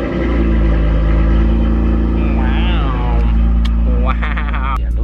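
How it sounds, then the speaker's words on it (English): A Toyota car engine idles steadily through a cold start, a loud low rumble with a continuous hum, while voices talk over it and brief higher tonal sounds break in near the end. "we got to get the cold start"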